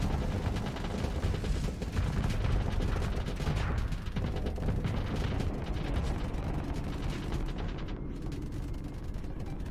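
Spaceship weapons firing in the Starsector video game, a dense continuous barrage of rumbling booms and rapid gunfire-like bursts at a loud, unbroken level with no pauses.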